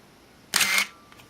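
A Minolta Maxxum 7000 35mm film camera fires its shutter for a one-second exposure, a sharp mechanical open followed a moment later by a closing clack, close and isolated in a quiet room.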